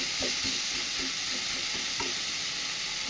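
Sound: frying and stirring shrimp for mustard flower bhorta

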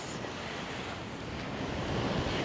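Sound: ocean waves on the shore on a morning walk in Hawaii

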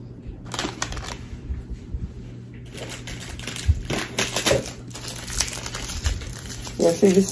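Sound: sticky tape being handled on an Easter basket

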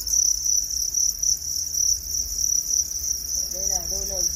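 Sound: Thai crickets chirping on a cricket farm

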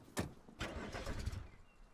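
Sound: car engine failing to start in Rust video game, out of fuel

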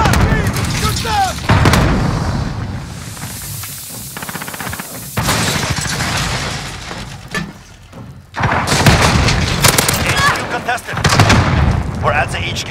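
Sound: gunfire from Modern Warfare video game

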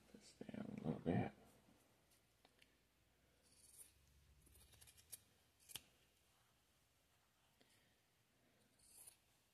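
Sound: cutting fabric with scissors while sewing a purse

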